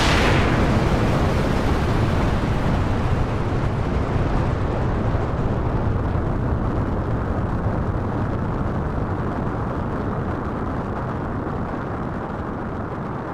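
Roaring rumble of the rocket launch for India's Chandrayaan-3 lunar mission, a loud sustained broadband thunder that surges at ignition and holds steady, slowly fading over many seconds with no talk.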